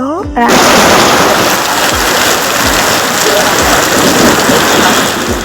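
Heavy rain pours down in a dense, loud, continuous roar of drops hitting surfaces, with a few low thuds under the downpour and no speech.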